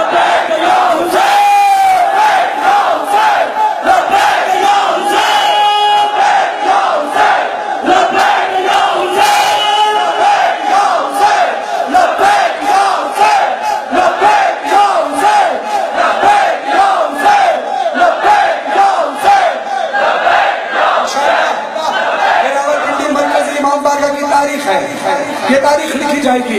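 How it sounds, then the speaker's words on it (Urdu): A large crowd at a Muharram gathering chants "Labbaik ya Hussain" in unison, loud and continuous with rhythmic surges of many voices. "تو ایک ہی نعرہ فضا میں بلند ہو، یہی منظر کربلا میں ہے، لبیک یا حسین، لبیک یا حسین"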